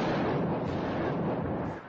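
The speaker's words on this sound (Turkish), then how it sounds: "Ve işte o patlama." A bomb blast on a street in Gaziantep, Turkey, comes as a dense, loud roar of noise that fills the whole stretch without speech.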